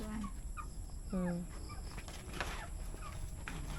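Chickens clucking nearby, a few short low calls and squawks over steady background hiss, with faint voices mixed in.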